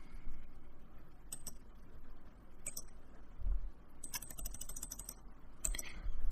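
Computer keyboard typing in short, irregular bursts of keystrokes with pauses between them, fairly close but soft, over a low background hum, during an ethical hacking tutorial.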